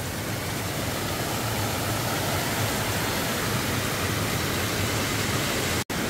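Water rushes through a narrow, tree-covered mountain valley stream at Bansagol Valley on Jirisan, a dense, steady roar filling the whole stretch at constant loudness, with no voices over it.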